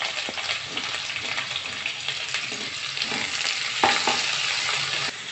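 Onion goes into a pan of frying cumin and cloves for a vegetable biryani, giving a steady broadband sizzle with stirring scrapes and a louder splash of frying around the middle, with no talk.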